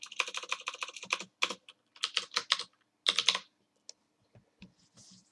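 Rapid keystrokes on a computer keyboard, bursts of quick clicky taps separated by short pauses, close and clear with no talking.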